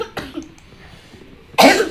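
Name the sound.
cough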